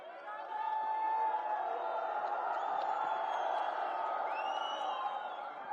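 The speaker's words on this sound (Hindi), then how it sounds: "पब्लिक ने तालियों की बौछार कर दी" A large outdoor political rally crowd cheers and applauds in a steady, dense roar of clapping and whoops that continues throughout, heard from some distance.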